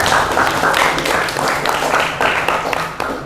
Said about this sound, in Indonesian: Tepuk tangan untuk Moza